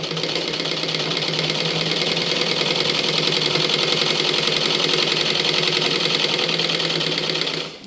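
A sewing machine stitches straight along lines drawn on a practice piece of cloth, its fast, even mechanical whirr running continuously at close range before stopping right at the end.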